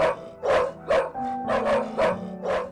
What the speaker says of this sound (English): If it's full, it's quite loud, lots of dogs barking.